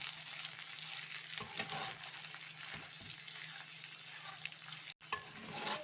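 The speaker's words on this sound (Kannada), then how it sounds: "ಇದು ಎಲ್ಲ ಮಿಕ್ಸ್ ಮಾಡಿಬಿಟ್ಟು ಮಿಕ್ಸ್ ಮಾಡ್ಕೊಳ್ಳೋಣ" Cheese pasta is stirred and mixed in a pan over heat with melted cheese, giving a soft continuous sizzle with scraping and slapping stir strokes, close and fairly quiet.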